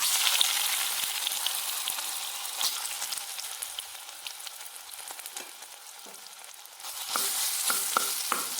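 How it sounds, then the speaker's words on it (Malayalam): Ripe nendran plantain frying in ghee gives a steady, close crackling sizzle with scattered pops, easing slightly mid-way and flaring louder again near the end, with no voices. "നെയ്യ് ഒഴിച്ചിട്ടുണ്ട് ഇനി കുറച്ച് നേന്ത്രപ്പഴം ഇട്ട് കൊടുക്കാം"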